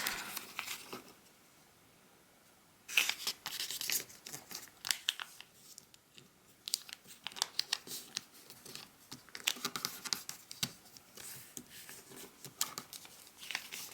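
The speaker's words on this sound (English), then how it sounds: "We're going to flip it around to the blank side, and we're going to fold it in half." Origami paper for a penguin being flipped over and folded in half, soft crinkles and crisp paper rustles up close and quiet, a louder handling burst partway through followed by scattered small creases and taps.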